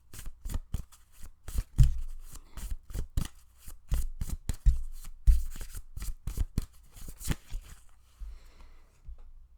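Tarot cards being shuffled by hand, a rapid series of crisp riffling slaps and flicks close up, irregular bursts that slow and thin out toward the end, with no talking.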